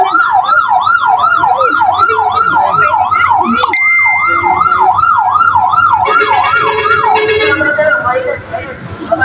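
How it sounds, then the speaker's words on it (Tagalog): A fire truck siren wails in a steady rising-and-falling cycle, loud and close, as the truck arrives at a house fire in San Antonio, Los Baños, Laguna; a horn blares briefly and engine rumble and crowd noise sit underneath. "Isa pa lang po dumadating na bumbero."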